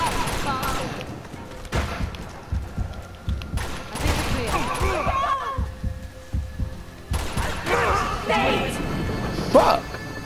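Gunfire in Uncharted: Among Thieves, with scattered shots and impacts mixed among game music and effects, while a voice talks over the action throughout.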